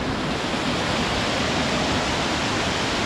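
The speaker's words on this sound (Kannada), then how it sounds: "ನೋಡಿ ಹೆಂಗೆ ಹರಿತೈತೆ ನೀರು." Steady, dense rush of river water flowing near Sathodi Falls, Yellapur, loud and close, with no pauses or voices for the whole stretch.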